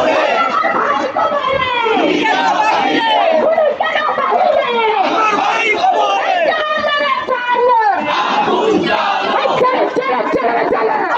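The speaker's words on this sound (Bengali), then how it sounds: "বিপ্লবী কমিউনিস্ট লীগ সহ এরকম ছোট ছোট অনেক প্ল্যাকার্ড নিয়ে কিন্তু তারা রাজপথে স্লোগান দিচ্ছে" Protesters at a left-wing street rally chant anti-government slogans calling for the government's fall, a loud continuous crowd of voices shouting in rhythmic unison up close.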